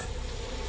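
A swarm of wasps buzzes in a zombie action game's downloadable content, a dense, steady insect drone heard briefly and fairly close, with no talk.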